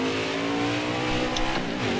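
NASCAR Xfinity Series race car number 94 roars past during a 25-lap race, its engine note steady and strong at moderate distance, with faint tire squeal under the drone.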